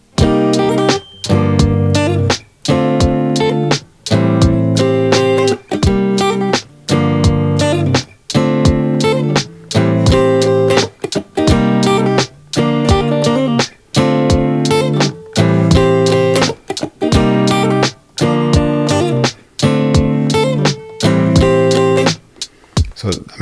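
Acoustic guitar playing a short fill-in riff, strummed chord bursts in a steady repeating rhythm with brief gaps, close and loud with no voices.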